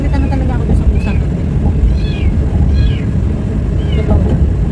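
A pet cat meows several times, short rising cries, under constant loud low rumbling background noise with a person talking.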